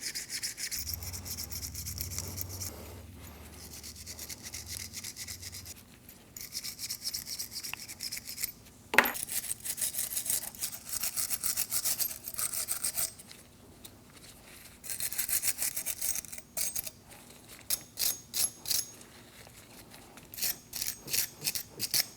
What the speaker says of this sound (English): For this, I'm using a wire brush, and you also want to clean up the back of this clip as well.